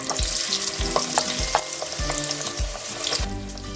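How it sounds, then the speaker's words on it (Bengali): Mushrooms fry in hot white oil in a wok, a loud continuous sizzle punctuated by regular, rhythmic spatula strikes against the pan roughly every half second. "এবার মাশরুমগুলো দিয়ে দিচ্ছি ভাজার জন্য।"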